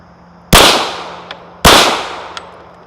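Two loud, sharp gunshots from a polymer Glock .40 pistol, about a second apart, each with a sudden crack and a decaying ring-off, with quiet background between shots.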